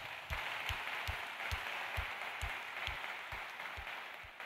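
A church congregation applauds at a Sunday morning sermon, a steady wash of clapping from many hands filling the room, with faint murmuring beneath and no speech on top.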